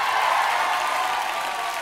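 Sustained crowd applause from a rock concert audience at Sala Bikini, a broad steady wash of clapping that holds constant throughout.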